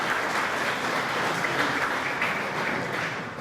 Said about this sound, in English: Please give them a warm round of applause for their support.